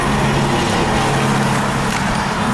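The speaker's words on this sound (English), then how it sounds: "Big old loud truck just drove by." Big loud truck driving past, a dense steady roar of engine and road noise that fills the whole moment, close and loud, with no talk.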